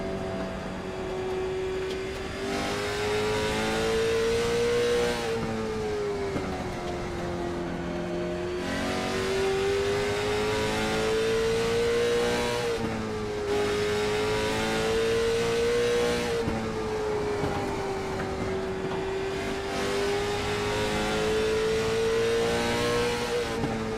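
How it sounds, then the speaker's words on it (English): Late model race car engines rev loudly and continuously at a racetrack, pitch rising and falling in repeated waves as the motors climb and ease off, close by. "I love the way these late models sound."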